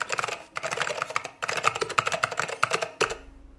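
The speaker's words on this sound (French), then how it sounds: "Vite, je tape mon mot de passe et je me connecte." Rapid bursts of close, crisp keystrokes on a computer keyboard as a password is typed, in quick clustered runs with brief pauses between them.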